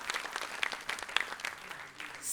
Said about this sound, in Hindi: जोरदार तालियों के साथ दोनों कलाकारों का यहाँ स्वागत करते हैं।